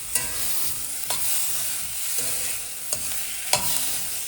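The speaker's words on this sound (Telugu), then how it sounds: "onion వేగిపోయిందండి, tomato వేసేసుకుంటున్నా" Tomato and onions frying in oil in a pan, a steady sizzle with several sharp stirring scrapes and clanks at irregular intervals, no talking.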